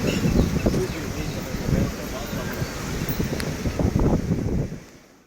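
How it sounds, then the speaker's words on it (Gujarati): Strong storm wind roars steadily into the microphone with heavy low rumbling gusts throughout, easing off near the end. "બહુ પવન છે"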